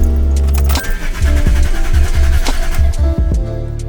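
A BMW E39's engine cranks and fires, then runs with a loud, close, rough idle and a few uneven pulses, heard alone with no speech.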